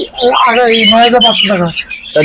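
A pair of pet cockatiels kept for sale gives loud, close, warbling chirps and sharp squawks in a quick, continuous burst.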